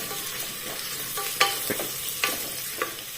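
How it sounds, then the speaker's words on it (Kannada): Two small chopped onions sizzle in a pan, a steady close frying hiss with a few sharp ticks of a spoon stirring against the metal, no talking. "ಎರಡು ಈರುಳ್ಳಿಯನ್ನು ಹೀಗೆ ಕಟ್ ಮಾಡಿ ಹಾಕ್ತಾ ಇದ್ದೇನೆ ಚೆನ್ನಾಗಿ ಫ್ರೈ ಆಗಲಿ"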